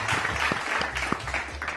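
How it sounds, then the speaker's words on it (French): Audience applause for Camair-Co airline executives, a steady wash of clapping from a crowd at an indoor event, continuous and fairly loud throughout with no talk over it. "Donc applaudissons pour les dirigeants de Camerco."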